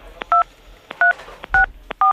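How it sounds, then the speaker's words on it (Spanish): Telephone keypad dialing tones enter a code: four short, loud electronic DTMF beeps in a quick, even sequence, each preceded by a soft key click, with no talking. "Márqueme código en el teléfono 2,"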